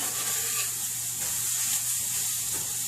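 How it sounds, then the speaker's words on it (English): Curry paste for a creamy coconut chicken curry is stirred in a hot pan, giving a continuous soft sizzle and hiss with faint stirring scrapes. "So you're gonna mix that all together"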